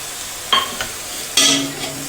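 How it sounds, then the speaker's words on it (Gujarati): Chillies sautéing in a pan on a medium flame, a constant close sizzle broken by two brief bursts of stirring and scraping. "હવે આપણે મરચાંને મીડિયમ ફ્લેમ પર 2 મિનિટ માટે સંતળાવા પાકવા દઈશું।"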